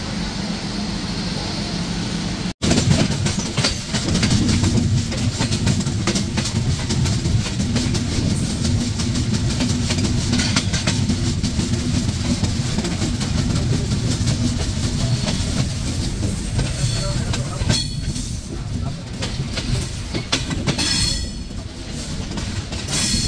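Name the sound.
Padma Express train entering Ishwardi Bypass railway station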